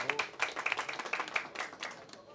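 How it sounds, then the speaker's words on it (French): Faint, distant applause from a conference audience in Toulouse, a brief patter of many hands clapping that fades out, with a voice murmuring over it. "Bravo, vous pouvez vous applaudir."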